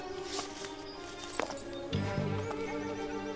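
Horses whinny and neigh while hooves clip-clop in a steady rhythm, fairly quiet and without talk, in a Lassie and Zoe cartoon scene.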